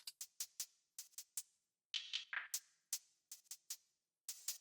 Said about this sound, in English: We're adding a second hi-hat in called this accent piece hi-hat.